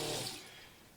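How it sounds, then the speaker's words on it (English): Running water from a new sink fed by a boat's freshwater pressure pump below deck, a brief rushing hiss that fades over about a second. "You can hear the pump run."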